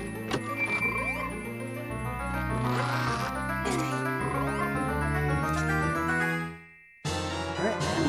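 Frog croaking in The Legend of Zelda: Majora's Mask, repeated bouncy croaks over a looping in-game melody, loud and close, with the music briefly cutting out near the end before resuming.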